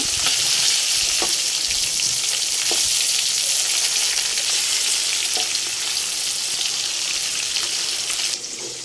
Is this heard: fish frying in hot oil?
yes